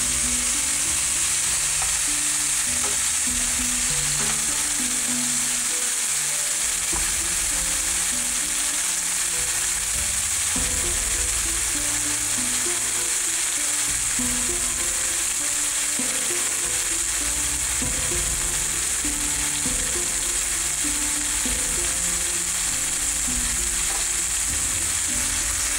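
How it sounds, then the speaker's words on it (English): A Mongolian BBQ style stir fry with all the ingredients cooking together sizzles loudly and continuously in a pan, close up, with no voices. "we're just gonna dump everything into the pan. It's all gonna cook at once."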